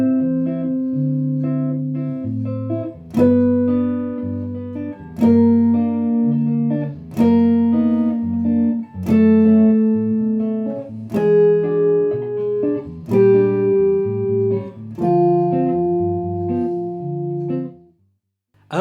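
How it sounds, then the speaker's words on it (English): A guide tone solo over a bossa nova chord progression, played on a clean, sustained instrument: a slow melodic line of held notes over changing chords, one per bar, with no talking. "There are several parts of this progression that lend itself well to guide tone soloing,"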